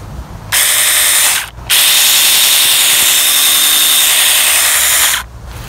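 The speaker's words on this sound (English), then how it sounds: "We have this dogwood tree we're going to try to cut up here with our mini saw" A small cordless mini chainsaw whines loudly cutting dogwood in two bursts, a short one then a longer sustained run, with a brief pause between.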